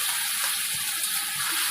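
Spice paste mixed with water hits hot oil with frying onions in a pan, giving a loud, steady, close hiss and sizzle that fills the whole moment with no speech.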